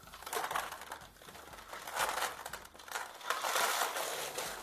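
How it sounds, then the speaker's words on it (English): One pound of shredded cheddar cheese slides and crunches off parchment paper into a funnel, a close, soft, rustling pour in uneven surges with no talk. "I'm going to hold on to my parchment as I dump my cheese into my funnel."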